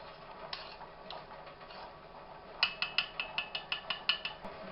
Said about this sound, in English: Mix that all up in there.